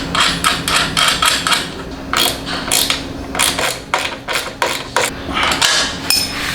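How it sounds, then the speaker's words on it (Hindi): Bolts being tightened while fitting a Red Rooster Performance exhaust on a Royal Enfield Himalayan motorcycle, heard as a close, loud run of rapid metallic ratcheting clicks and clanks with brief pauses, no talk. "तो उसी से हम लोग टाइट करेंगे इसको।"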